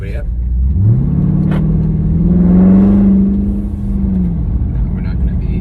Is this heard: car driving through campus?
yes